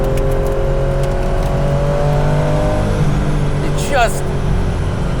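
A sports car engine drones at close range with a strong, even tone, its pitch climbing as it revs and then shifting near the end.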